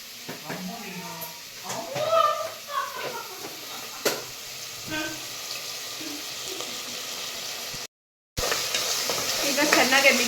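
Vegetable kurma cooking in a pan as ginger-garlic paste goes in, with scattered scraping of a spoon, soft sizzling and clinks under a woman's speech, ending in louder frying noise.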